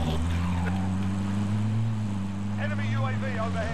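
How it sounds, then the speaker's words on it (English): In Warzone, a chopper's steady rotor drone hums low and continuous under a player's voice, with the aircraft sounding distant and unchanging throughout. "That was the chopper"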